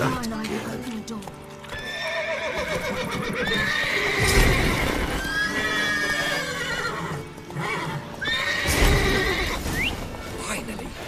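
Horses in the game The Witcher 3 let out two loud, drawn-out whinnies a few seconds apart, with hooves clopping and snorting in between, all close by.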